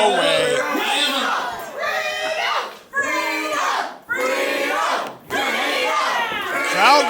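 A wrestling arena crowd at a live championship event shouts and chants loudly in rising bursts, with brief dips between waves of cheering.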